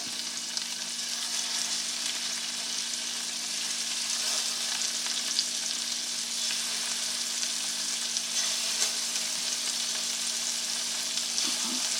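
Scallops searing in hot oil in a pan give a steady, loud, even sizzle with a crisp hiss throughout and no voices.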